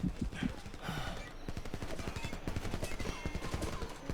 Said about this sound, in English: Take out those machine gunners.